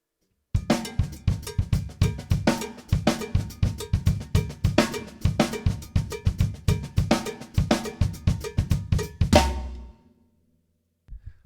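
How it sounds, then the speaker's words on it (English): A steady, rhythmic cowbell pattern with other percussion on an electronic drum kit, repeated hits at an even tempo, loud and close, ending with a sustained crash-like ring. "I'm going to get a bit of cowbell in and just see what happens"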